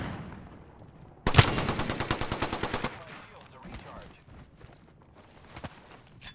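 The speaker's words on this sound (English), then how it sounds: "taking fire, friends. Getting shot at." Rapid automatic gunfire from an Apex Legends firefight, a loud burst of evenly spaced shots lasting about a second and a half, followed by scattered quieter shots and impacts.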